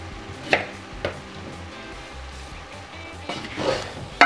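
A knife chops pepper and potatoes into large pieces on a kitchen board for bozbash soup: a few sharp, irregular thuds spaced apart, moderately close, over a quiet room hum.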